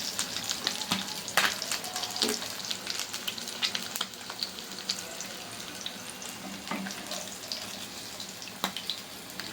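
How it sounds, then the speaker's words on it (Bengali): Hilsa fish frying in hot oil, loud steady sizzling with sharp crackles and pops scattered throughout, close up with no speech. "দেখতে দেখতে ইলিশ ভাজা যেন শেষ হয়ে গেল।"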